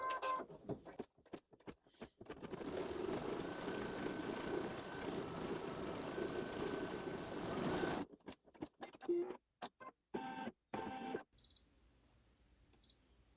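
A SweetPea embroidery sewing machine stitching the details of a cat design on a haunted house quilt block: a steady, close mechanical whirr for several seconds, then stopping and starting in short bursts before going quiet.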